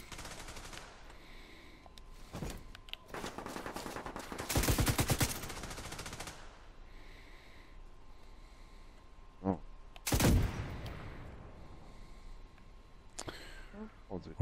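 Light machine gun fire from The Division 2, with long sustained bursts of rapid shots alongside shorter isolated cracks and volleys, broken by quieter stretches of gameplay noise and occasional clicks.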